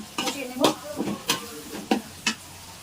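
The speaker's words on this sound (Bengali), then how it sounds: "টমেটো নিয়েছি, একসঙ্গে আমি এগুলো কষিয়ে নেব।" Cumin powder, coriander powder and tomato are fried together in a pan, about six distinct scraping stirs landing at a steady rhythm over a faint sizzle.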